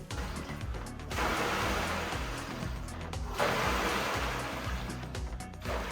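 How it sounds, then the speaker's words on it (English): Water sloshing in the tank of a Kingsmith WR1 folding water rowing machine during rowing, a steady rushing swell that surges in two broad waves over a low rumble, close and continuous with no talk. "You can definitely hear the water sloshing around when rowing"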